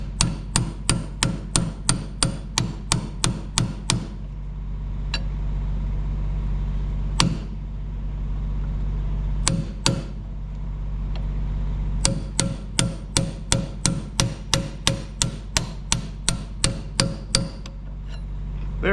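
A hammer taps a bearing by its inner race onto the transmission shaft of a 1960s Galion 503 road grader, sharp metallic strikes in quick regular bursts separated by short pauses, close and distinct.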